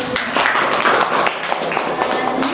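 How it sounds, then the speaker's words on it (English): Students in an English microteaching classroom break into brief, dense applause, loud and close, a continuous patter of many hands lasting a couple of seconds. "Give applause."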